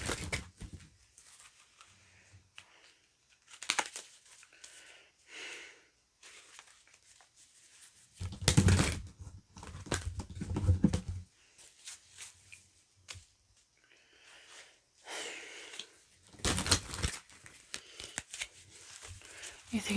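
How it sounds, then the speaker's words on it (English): Tarot cards being shuffled by hand in a quiet room: intermittent bursts of papery riffling and sliding, some louder flurries, scattered across the stretch with soft pauses between. "I'm just gonna shuffle these cards and see what comes through."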